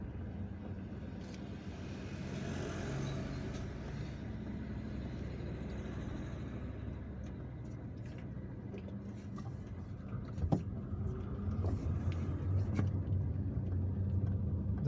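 Steady road traffic rumble heard from inside a car driving through an outlying district of Algiers, with passing vehicles and engine noise continuing throughout and a brief sharp knock near the end.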